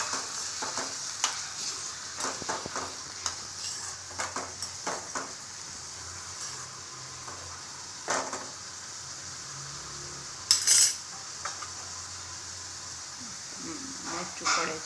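Onions and spices are stirred in a cooking pan over heat, giving a steady sizzling frying hiss with scattered scraping stir strokes and a few louder clinks near the end; no one talks.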